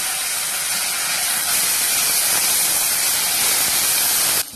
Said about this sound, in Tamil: வெங்காயத்தை நல்லா வதக்கிக்கணும்.